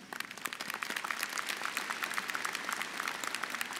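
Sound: applause at commencement ceremony

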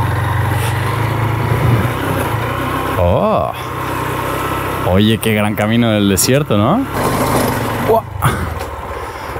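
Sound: motorcycle riding off-road on a desert trail

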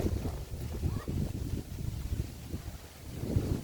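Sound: strong wind blowing

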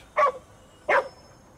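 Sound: dogs barking in GhostWire: Tokyo video game

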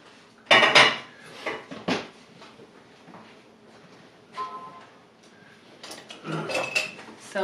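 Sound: spatula cutting bread dough in two

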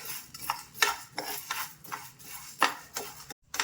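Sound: dry roasting coriander seeds and urad dal in a pan

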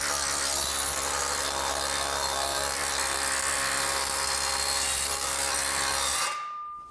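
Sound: JET planishing hammer shaping sheet metal

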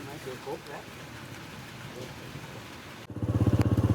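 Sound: rain falling

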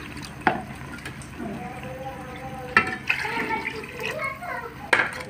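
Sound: water being poured into a pot of rice

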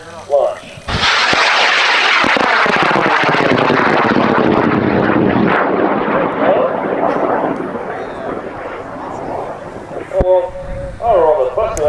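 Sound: high power rocket launching on an M1250 motor

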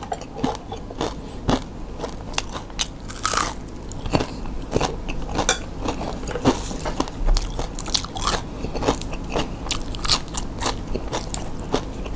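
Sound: crunchy chewing of fried pork cracklings with chili paste and rice

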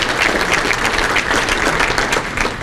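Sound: audience applause

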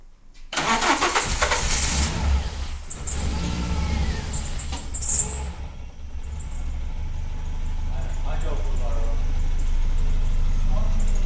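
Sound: Renault Clio RSI with swapped F4R engine being started

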